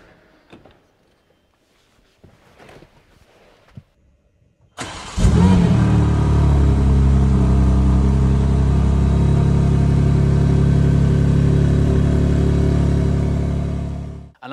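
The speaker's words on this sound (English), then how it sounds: "I'm gonna start off with the entry level BMW M2." After a few faint clicks and knocks, a BMW M2 engine fires up and settles into a loud, steady, close-up roar that holds until it cuts off at the end.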